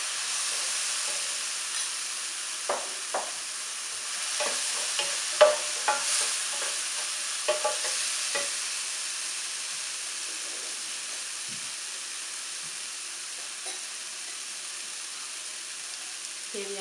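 Fish omelette mixture with green chillies, chilli powder and salt sautéing in a pan: a faint, even sizzling hiss with a few light spatula taps early on, fading to a quiet steady fry.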